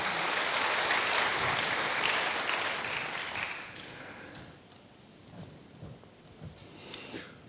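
A church congregation claps at a joyful worship service, a thick wash of clapping that swells early, then fades away over a few seconds, leaving only a few faint scattered sounds.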